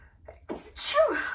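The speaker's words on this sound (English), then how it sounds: "I'm just going to sneeze." A single sharp sneeze bursts out close by after a short intake of breath, loud and brief against a quiet room.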